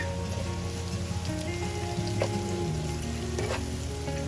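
Ginger garlic paste frying with onions in a pan, an even dense sizzle with faint spatters and a couple of soft stirring scrapes, close and continuous with no voice.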